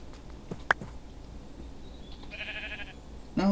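A sheep in the Minecraft mod TerraFirmaCraft gives short bleats as it is killed, sounding as a faint, brief cry midway followed by a sharper, louder bleat at the very end over a quiet background.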